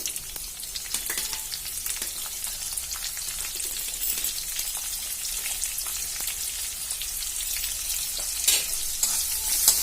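Onion pieces frying with curry leaves and dal for a carrot green chilli fry, a steady close crackling sizzle with brief stirring scrapes running throughout, no voices.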